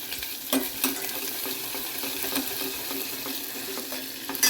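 Brinjal and tomato fry in a pan with a steady close sizzle, broken by a few louder clinks and stirring scrapes, no voices over it.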